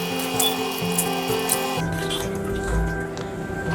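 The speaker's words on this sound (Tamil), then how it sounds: "இந்த 2ஐயும் சேர்த்து கொஞ்சமாக நசுக்கிக்கலாம்." Ginger and herbs being crushed by hand for a herbal decoction for cold and cough. Close, gritty rubbing and pounding strokes come rhythmically at first, then shift to a duller, irregular grinding.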